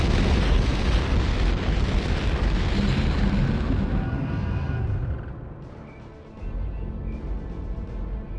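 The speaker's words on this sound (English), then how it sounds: "Ammunition storage facility destroyed." An ammunition storage facility blowing up in the game Turok 2, a sustained loud roaring explosion rumble that fades and dips before a lower rumble continues, no voices.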